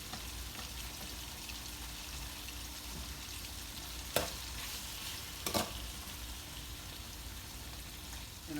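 Saltfish seasoned with black pepper cooking in a pan for ackee and saltfish, giving a faint, steady low sizzle with two brief sharp clinks partway through.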